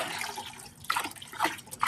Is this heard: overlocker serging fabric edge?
no